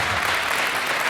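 Audience at a public forum on Edgemont incorporation breaks into steady, dense applause, many hands clapping together at even loudness for about a second with no voices over it.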